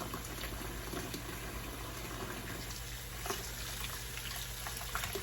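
Shower water runs steadily while a used makeup brush is rinsed, a faint, continuous hiss and splash with small irregular drips and no voices.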